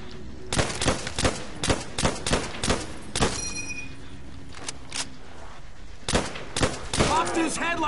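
M1 Garand rifle fire in Call of Duty World at War's zombie mode rings out as a string of sharp, evenly spaced loud shots, then a pause and a few more near the end, where a voice briefly speaks.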